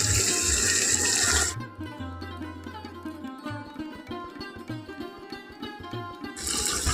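Homemade sesame oil runs through a strainer in a continuous liquid pour, gurgling and splashing close by, with a steadier rush at the start and end.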